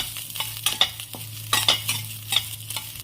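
Green chillies, garlic and curry leaves frying in a pan, a soft sizzle under repeated rhythmic scraping and clinking stirs of a spoon, close and alone.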